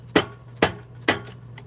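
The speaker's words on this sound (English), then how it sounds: "If I only had a smaller hammer." Three sharp metallic hammer strikes ring out at even intervals during a driveway oil change on a Kawasaki KLX 300 motorcycle, each a bright clink over a low steady hum.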